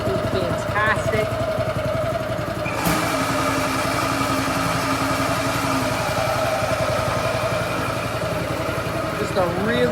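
A California Trimmer Catalyst 20 reel mower engine runs on its first start, a steady loud buzzing drone throughout, with a brief sharp burst near the middle.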